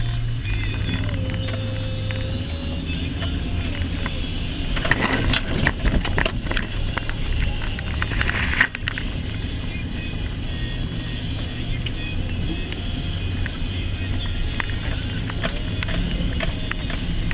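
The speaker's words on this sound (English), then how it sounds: "Thank God for four-wheel drive and a Chevy pickup." A Chevy four-wheel-drive pickup driving over soft ground near a pond, its engine a steady low rumble throughout with a few rattles and bumps in the middle, close and loud, with no talking.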